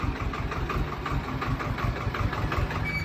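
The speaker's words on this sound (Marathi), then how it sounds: "आता ट्रॅक्टर आलेला आहे आपला" A tractor engine idles steadily at a farm cowshed, waiting to haul a trolley of powdery dried manure; a low, even throbbing rumble with a faint knock continues throughout, close by and alone.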